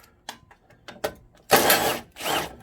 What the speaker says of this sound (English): You need to remove this little plate right here with a number 10 socket, a 10 millimeter socket